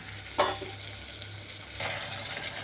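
Bitter gourd slices sizzle steadily in an oil-filled pan, with a sharp scrape of stirring near the start and a louder surge of frying toward the end, close and without speech.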